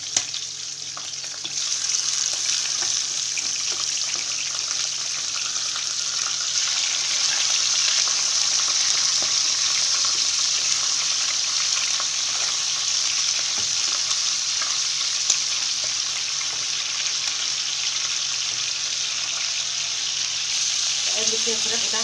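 Chicken pieces fry in hot oil, giving a loud, dense, steady sizzle that holds for over twenty seconds close to the pan with little change. No voices sound over the crackle.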